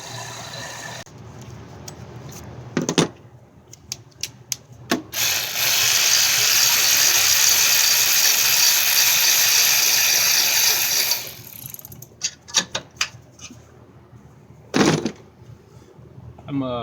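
An alternator is pulled from a 2000 Lexus RX300 with hand tools: close ratchet clicks and metallic knocks, then a sustained loud hiss in the middle, with scattered clunks afterward.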